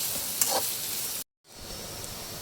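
Onions softening in a pan, heard as a continuous bright sizzle with faint stirring that cuts out briefly and then resumes.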